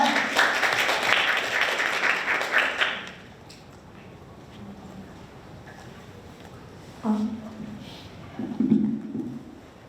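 Applause from the audience at a university innovation forum as a student presenter is welcomed. Dense clapping fills the first three seconds and then stops abruptly. A quiet room follows, then a voice begins speaking.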